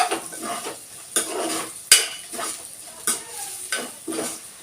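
Bitter gourd curry frying in a pan is stirred with a spoon, soft sizzling under repeated scraping strokes and a few sharp metallic clinks against the pan, close and moderately quiet.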